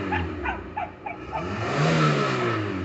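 A Peugeot car engine idles while running on LPG after the petrol supply has been shut off, giving a steady close-up hum that swells slightly midway, with a few short chirps at the start.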